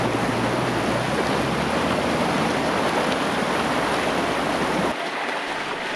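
Rushing, churning water as an off-road vehicle fords a river, a loud continuous wash and splash that holds steady throughout, with a low engine rumble briefly dropping away near the end.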